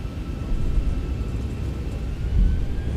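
Jet engines spool up in a Zibo-modded Boeing 737 flight simulator, throttles pushed to 60% for takeoff thrust: a steady, loud low rumble with a faint whine above it, swelling slightly near the end.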